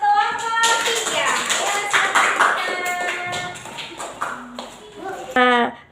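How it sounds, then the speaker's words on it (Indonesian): A school class claps for a student discussion group, quick uneven hand claps and taps close by, mixed with children's and a teacher's voices. "kasih tepuk tangan untuk kelompok 3"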